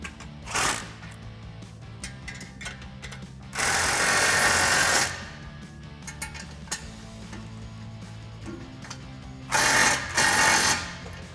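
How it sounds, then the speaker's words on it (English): Tightening exhaust flange bolts on a 2021-2022 Ford F-150 Corsa 3-inch exhaust with a 17 mm socket and 15 mm wrench: bursts of rapid ratcheting and mechanical whirring, two longer loud spells, between quieter clicks and faint room noise. "we can take a 17 millimeter socket on one side and a 15 millimeter wrench on our nut side, and we'll tighten this down"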